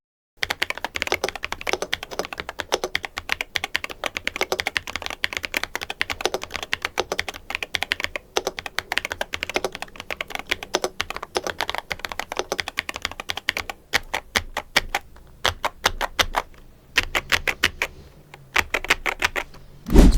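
Steady, fast typing on an Epomaker Dynatab75x mechanical keyboard with sound-dampening layers, a low, muted clatter of dense keystrokes running throughout with brief pauses near the end.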